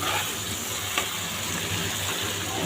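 Meat spice masala fries in a pan with a continuous close sizzle and crackle, joined by a low steady hum and a single short clatter partway through.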